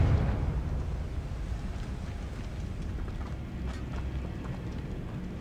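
Confringo fire spell in Hogwarts Legacy, a loud burst at the start that quickly decays into a lingering rumbling crackle, steady and noisy for several seconds, no talking.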